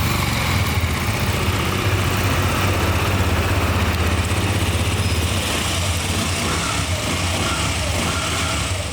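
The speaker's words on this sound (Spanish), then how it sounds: "dejando el sonido de este motor que sonaba finísimo" A KTM Duke motorcycle engine running steadily after a jump start, with a close, even idle and a slightly rough mechanical chatter that holds constant throughout, with no voices.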